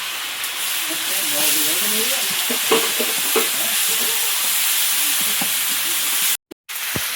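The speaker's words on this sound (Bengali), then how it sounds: "পাশে মশলাটা ভাজা হয়ে গেছে" Ginger-garlic paste sizzles and hisses steadily in hot oil in a pan, a continuous frying sound with occasional stirring scrapes, and a brief cut near the end.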